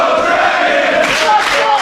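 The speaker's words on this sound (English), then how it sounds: "Listen to the crowd of Milwaukee." A wrestling crowd in Milwaukee roars and chants during a match, a loud, continuous wall of cheering with rising surges toward the end.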